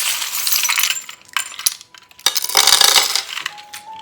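Dice thrown for charm predictions clatter and rattle loudly up close, with sharp clicks and tumbling bursts across a hard surface, pausing briefly before a second rolling burst and settling.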